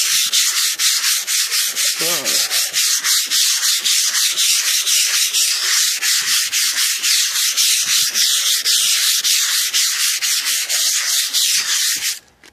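Continuous sanding rasps against the rust on a Cadillac quarter panel during spot-paint prep, loud and steady with a rapid back-and-forth rhythm, running nearly unbroken for about twelve seconds before stopping abruptly.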